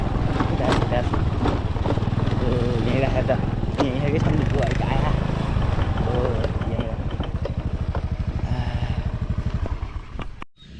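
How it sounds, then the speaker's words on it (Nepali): A motorcycle engine runs close and loud on an off-road track, its steady throbbing idle and revving lasting almost the whole stretch before cutting off near the end. "यहीँ सन्दीपको बाइक आयो।"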